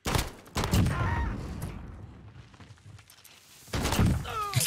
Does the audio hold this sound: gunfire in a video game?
yes